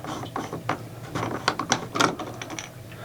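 A part of a home air conditioner being unscrewed by hand, giving a run of irregular ratcheting clicks and plastic ticks, close and fairly quiet, with no talk.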